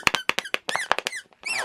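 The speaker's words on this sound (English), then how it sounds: "this water bottle has a squeaky in the lid" A squeaky plastic lid on a water bottle squeaks repeatedly as the bottle is crumpled, a quick run of sharp, close chirps followed by a longer squeal, loud and alone.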